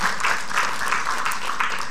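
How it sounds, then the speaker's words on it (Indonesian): Studio audience on an Indonesian health talk show applauding a guest named Vega, a short, dense burst of clapping at moderate loudness, with a faint voice underneath. "Tepuk tangan buat Vega ya."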